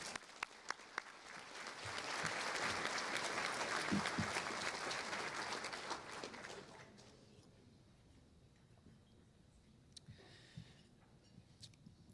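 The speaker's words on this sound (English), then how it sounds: "Let's give them a round of applause." A luncheon audience at a joint chamber event applauds warmly, the clapping swelling to a full, dense round for several seconds before fading into scattered claps and room murmur.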